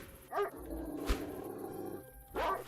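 A dog barks in the Dark Skies 2 video game: two distinct, fairly close barks about two seconds apart over a constant low game ambience.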